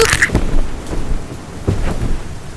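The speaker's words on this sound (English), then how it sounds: "It's hard to see out here with so much rain" Heavy rain pouring steadily with rumbling thunder rolling through, loud and close, a stormy night scene in a radio mystery drama set on November 10, 1989.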